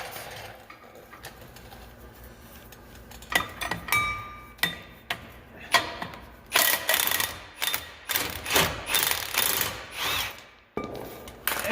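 Impact wrench hammering off a bolt on a machine's closing wheel, a run of sharp rattling bursts starting sparse and quickening into rapid clustered impacts, close and fairly quiet.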